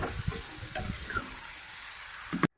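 Chicken pieces and spices fry in a wok for chicken samosa filling, a soft sizzle broken by several scraping stirs of a spatula close by, ending abruptly.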